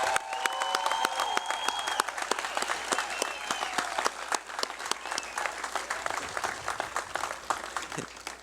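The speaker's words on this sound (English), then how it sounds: "Let's give our graduates a big round of applause" An audience at a high school commencement ceremony applauds the graduating class with sustained, dense clapping, individual sharp claps standing out, whistles and cheers rising early, heard from a distance in a large hall.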